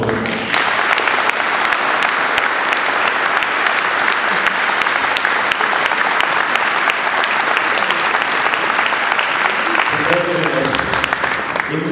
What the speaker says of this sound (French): je vous demande à nouveau de les applaudir chaleureusement.